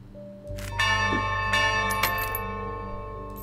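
A church-style bell in the Cursed Fates: The Headless Horseman video game rings out once with a clear struck onset, its long metallic harmonic tone sustaining and slowly decaying, with a few light clicks layered on top.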